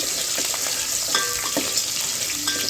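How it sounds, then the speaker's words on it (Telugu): A medium onion and three green chillies fry in hot oil for livers biryani, giving a steady broadband sizzle with a few soft stirring scrapes, close and continuous with no voices. "ఒక మీడియం సైజ్ ఉల్లిపాయ వేసుకున్నాను ఒక మూడు పచ్చిమిర్చి అయితే వేసుకొని బ్రౌన్ కలర్ వచ్చే వరకు అయితే ఫ్రై చేస్తున్నానండి"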